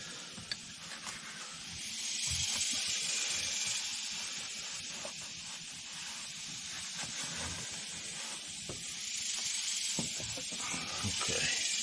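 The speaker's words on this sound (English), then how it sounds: "Just going to use some WD-40 with my homemade air chuck mod." WD-40 sprayed through a homemade air chuck while cleaning a 2007 Jeep Wrangler JK throttle body gives a steady, fairly quiet hiss that swells slightly and holds for the full stretch.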